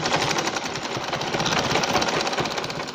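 Sewing machine stitching lace onto a dupatta, a fast steady mechanical chatter running without a break, close and alone.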